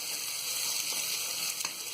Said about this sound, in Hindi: प्याज को हम हल्का गुलाबी होने तक फ्राई करेंगे।